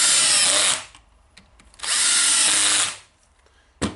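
Eibenstock EHD 1300 hand-held diamond core drill, freshly repaired with a new armature, runs in two loud, steady bursts of about a second each, separated by a quiet pause, then briefly starts again at the end.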